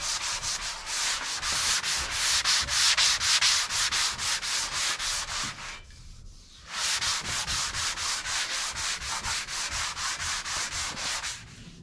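Sandpaper of 180 grit is worked by hand over a first finish coat in rapid back-and-forth scratchy strokes, close and steady, pausing briefly midway before resuming the same brisk rhythm.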